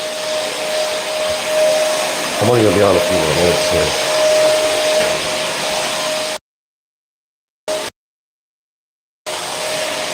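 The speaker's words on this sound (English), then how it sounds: "that's the vacuum cleaner going here" A household vacuum cleaner runs steadily at close range with a constant whining drone, a voice talking over it, before the sound cuts out abruptly with brief bursts after.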